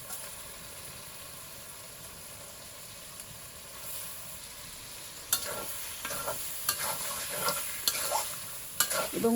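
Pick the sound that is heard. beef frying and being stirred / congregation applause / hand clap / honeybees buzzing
beef frying and being stirred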